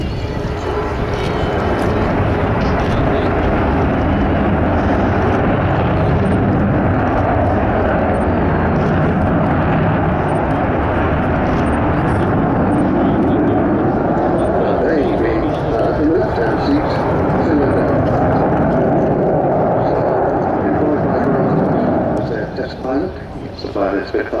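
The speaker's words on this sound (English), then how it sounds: "when they turn on the taps on those four big Olympus engines, I think you'll probably hear." Four Rolls-Royce Olympus engines of an Avro Vulcan bomber roar at an airshow, a loud, sustained, rumbling jet blast that swells and holds for over twenty seconds while an announcer talks over it.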